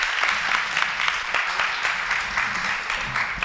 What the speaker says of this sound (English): A second round of applause.